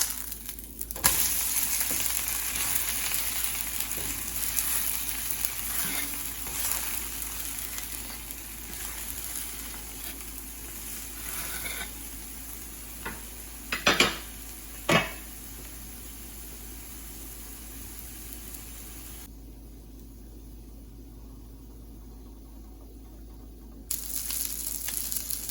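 Dosa cooking in ghee on a hot pan before flipping, giving a steady soft sizzle and frying hiss throughout, with a couple of brief sharper crackles midway and no talking.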